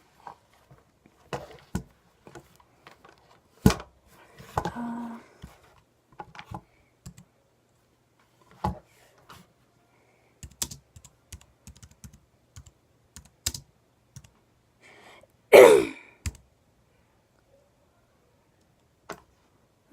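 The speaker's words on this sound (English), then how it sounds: "now I'm just going to type something in here on my computer" Scattered keystrokes on a computer keyboard, sparse individual clicks and short runs separated by silent gaps, close and clear, with one louder clatter near the end.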